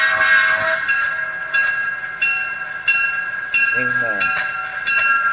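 A passing train with a sustained, loud horn-like tone and rhythmic clatter, plus a brief spoken word partway through.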